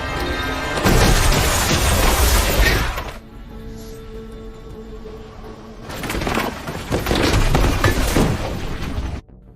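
A bomb detonating inside a tunnel in the action film The Marine 2, a loud crashing blast with debris, then a brief lull with a low tone, followed by a second long rumbling burst of destruction.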